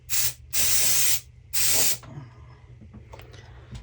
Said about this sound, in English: Let's give it a spray with silicone release.